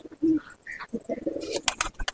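Large long-bodied Punjabi Malwai pigeons at a loft give a few soft coos and low calls, close by, with rustling and shuffling noises toward the end and no talking.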